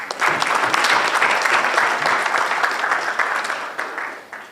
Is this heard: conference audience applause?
yes